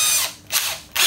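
A radial drill runs in a woodworking workshop, giving three short, bright whirring bursts within about a second, close and fairly loud.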